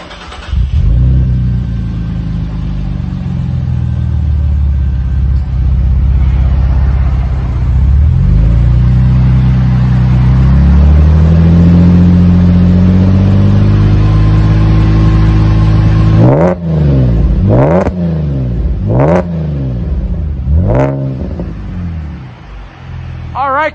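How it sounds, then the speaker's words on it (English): A 2012 Chevrolet Camaro V6 with Borla axle-back mufflers starts up, settles to a loud, deep, steady idle, then gives several sharp revs that rise and fall in quick succession near the end. "Is it that nice, deep, mellow tone that the customer is looking for?"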